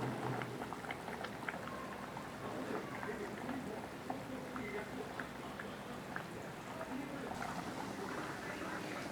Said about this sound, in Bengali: এবার আমি ঢাকা দিয়ে এটাকে 10 মিনিট ফুটিয়ে নেব